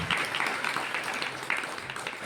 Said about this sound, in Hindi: जोरदार तालियां पवित्र आत्मा के लिए।